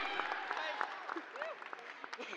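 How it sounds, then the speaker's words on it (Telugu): An audience at a gathering of media people claps, a fairly faint, busy patter of hands with voices talking over it. "గట్టిగా క్లాప్"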